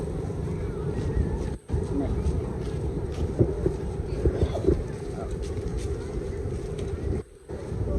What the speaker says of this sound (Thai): เริ่มลมเริ่มมาแล้ว